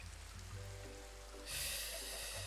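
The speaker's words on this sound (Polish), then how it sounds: "Deszcz mi, mi pada w środku." Rain falls inside a house in Minecraft as a faint, steady hiss of soft patter. It swells noticeably partway through and continues quietly with no voices.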